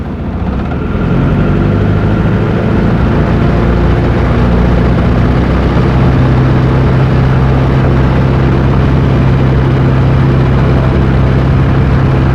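A loud, close Rotec Legacy 2200 radial aircraft engine, installed on a Jabiru, climbs smoothly to 2000 rpm and then holds a steady, droning pitch, with a throbbing low rumble beneath it.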